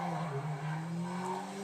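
A car drifting in GTA 5, with a sustained tire squeal and engine drone that holds steadily throughout, loud and close.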